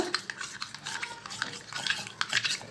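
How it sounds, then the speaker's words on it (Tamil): A spoon stirs milk powder into a warm agar agar pudding mixture in a pot, giving soft irregular scraping and swishing strokes, close and fairly quiet, with no talking. "இப்போ இதை நல்லா கலந்து எடுத்துக்கிறேன் நான்"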